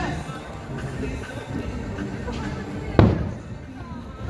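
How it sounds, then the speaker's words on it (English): A single loud firework bang bursts out partway through, over a steady background of crowd chatter and ambient outdoor noise. "The nightly fireworks over at Fantasia."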